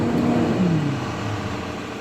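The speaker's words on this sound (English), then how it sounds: "Rev it up to about 1500 RPMs." A truck engine held at a steady raised rev around 1500 RPM during a pre-trip air brake check, a constant loud drone with a low tone that dips slightly partway through, with no talking.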